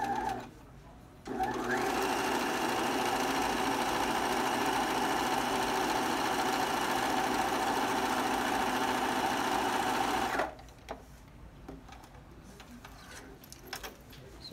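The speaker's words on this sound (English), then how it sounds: "I'm just going to sew all the way down one side." Sewing machine stitching down one side of a zipper bag, a steady close hum of fast stitching that runs unbroken for about nine seconds, then stops, leaving light handling noises.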